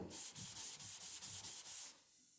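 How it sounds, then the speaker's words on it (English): Rhythmic back-and-forth sanding, about eight even strokes of a sanding block rubbing a Buick car's body, close and quiet, then stopping. "Keep sanding."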